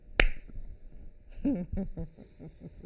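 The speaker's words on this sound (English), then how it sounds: "Now when I clap my hands, they'll easily pop apart." A hypnotist gives one sharp, close hand clap, a single loud crack, followed by his speaking voice at a moderate level.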